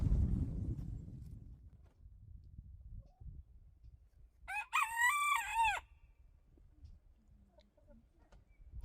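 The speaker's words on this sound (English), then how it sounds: "Stupid mini rooster." A mini rooster crows once, a clear mid-distance call of about a second, on a snowy mountain homestead beside an off-grid yurt, with quiet outdoor background before and after.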